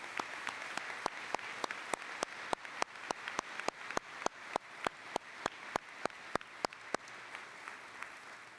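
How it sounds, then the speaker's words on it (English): An audience applauds at a scientific conference opening ceremony. Soft, distant clapping forms a faint wash, while one nearer pair of hands claps in a steady, even rhythm throughout. "Let's give all three a round of applause again."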